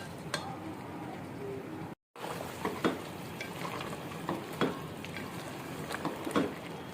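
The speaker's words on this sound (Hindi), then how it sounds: "मसाला हमारा भुनना शुरू हो गया है, ऑयल भी ऊपर आना शुरू हो गया है" Masala fries in oil in a pot for chicken aloo shorba, a steady soft sizzle and crackle with scattered faint pops and stirring scrapes, brief silence near the start.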